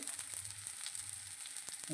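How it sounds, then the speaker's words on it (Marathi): Onion and spices fry faintly in a pan for stuffed brinjal masala, a steady soft sizzle running alone for two seconds. "आता मी मसाले भाजून घेते छानपैकी. कांदा पहिला छान भाजते."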